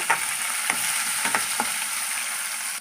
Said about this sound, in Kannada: ಇದನ್ನು ಒಂದು ಸ್ವಲ್ಪ ಚೆನ್ನಾಗಿ ಮಿಕ್ಸ್ ಮಾಡೋಣ